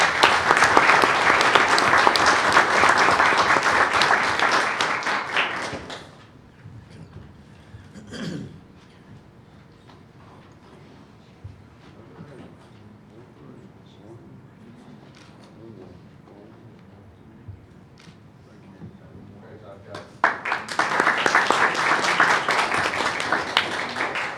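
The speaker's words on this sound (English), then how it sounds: "let's give them another round of applause" Audience at a regular board meeting applauds state-level student winners: a loud round of clapping fades out, followed by a quiet room with coughs and throat clearing, then a second burst of clapping at the end.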